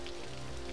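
Rain falls steadily in a Cities Skylines city, a soft continuous hiss of drops with no voices in the brief moment.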